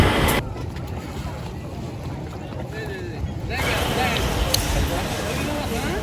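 A trawler boat crossing the Padma river: continuous broadband rush of water and engine noise, abruptly shifting and intensifying partway through, with wind and people talking in the background.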